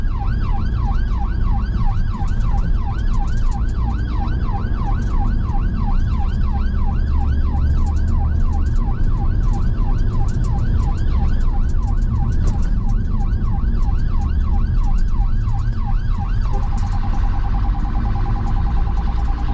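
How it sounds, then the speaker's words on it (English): A UK ambulance siren wails loudly and steadily in a fast, repeating up-and-down warble during a rush-hour emergency response, then switches to a flatter tone near the end, with traffic rumbling underneath. "It's an interesting siren."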